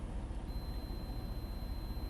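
A continuity tester held across a car fuse gives a thin, steady electronic beep that starts about half a second in and holds to the end, faint over a constant background hiss.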